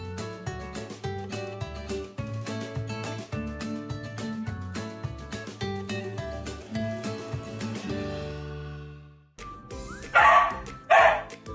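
A pet dog barks twice in quick succession, loud and close, after a stretch of playful music fades out.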